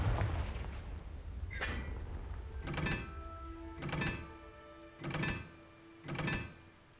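In the Hogwarts Legacy video game, a Confringo spell sets off a series of five punchy explosive thuds at roughly one-second intervals, each a sharp blast with a short ringing tail over low game ambience.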